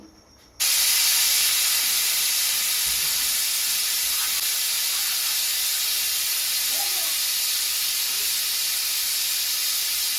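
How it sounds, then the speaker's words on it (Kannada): A pressure cooker cooking vegetable pulao lets off a loud, steady steam hiss close by that starts abruptly and runs unbroken for about ten seconds. "ಕುಕ್ಕರ್ ವಿಜಿಲ್ನ ಮುಚ್ಚಿ ನಾನು ಮೂರು ವಿಜಿಲ್ನ ಕೂಗಿಸ್ಕೊಳ್ತಾ ಇದ್ದೀನಿ"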